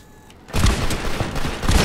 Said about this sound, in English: I just heard a grenade launcher.